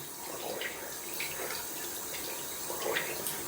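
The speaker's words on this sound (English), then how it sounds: "Just rinsing off the sink a little bit down here." Water runs from a tap while a sink is rinsed, a steady, moderately quiet hiss of flowing water with faint splashes and no talking.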